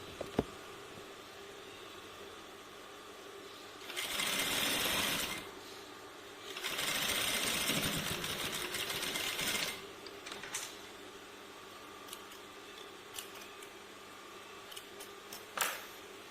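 A sewing machine stitching fabric runs in two short bursts of steady mechanical whirring, each a few seconds long, between quiet stretches with occasional small clicks and handling noises.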